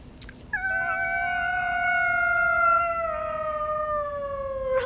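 A drawn-out, wailing cat howl rises abruptly and holds for several seconds as one long, loud tone that slowly sinks in pitch, with faint room noise before it.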